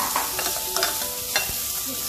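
Corn kernels and vegetables sizzle steadily while being sautéed in a pan, a close, continuous fry with occasional scrapes of stirring and no talking.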